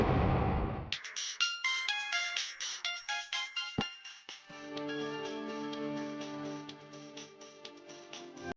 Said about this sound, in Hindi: आंटी का फोन बज रहा है।